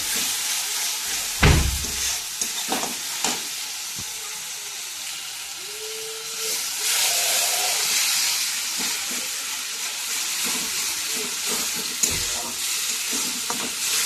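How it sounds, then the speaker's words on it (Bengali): Spice paste for a spinach dish sizzles and hisses in oil, with a loud, steady frying sound and several sharp clatters of a spoon stirring the pan nearby; no one speaks. "তো দিয়ে ভালো করে কষিয়ে নিই যতক্ষণ না তেল ছাড়ে।"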